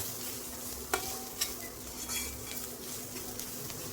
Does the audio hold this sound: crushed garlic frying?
yes